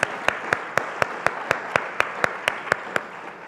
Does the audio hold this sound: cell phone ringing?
no